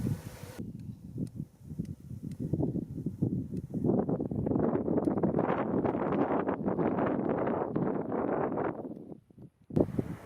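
Wind gusts across an open, rocky New Mexico hillside during an ibex bowhunt. The gusts swell into a loud, sustained rush that buffets the microphone for several seconds, then drop away abruptly, with no voices.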